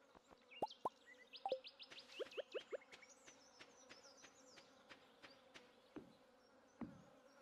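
Buzzing bees in the video game Stardew Valley, soft intermittent buzzy pulses and short chirps in a quiet game scene, faint and irregular, with a few brief bursts clustered together.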